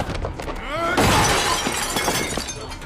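A table breaking in a film stunt scene: a loud crashing shatter with a splintering, glassy burst that rings out and settles, with some voices faintly mixed in.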